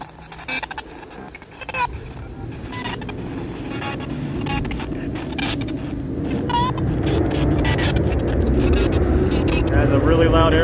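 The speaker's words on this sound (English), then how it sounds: "As a really loud airplane goes by." A loud airplane passes over a wooded area, its broad engine roar building steadily and staying strong to the end, with people talking underneath.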